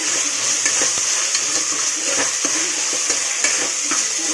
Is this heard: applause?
no